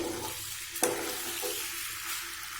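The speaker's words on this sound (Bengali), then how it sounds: "এর মধ্যে আমি ম্যাক্রোনিগুলোকে দিয়ে দিলাম" Dry macaroni hits a pan of frying masala with one sharp clatter, then a soft, steady sizzle continues at low volume.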